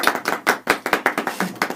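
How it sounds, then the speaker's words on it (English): A small group of people claps hands at a podcast, a short burst of sharp, irregular claps close by with no talking. "we're gonna have to clap after this"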